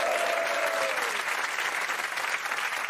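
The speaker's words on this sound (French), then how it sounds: "applaudissements pour elle." Steady audience applause from a French television talk show studio, dense and continuous for the full three seconds, with a brief tonal whistle-like sweep near the start.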